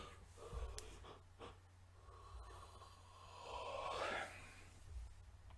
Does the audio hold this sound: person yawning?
yes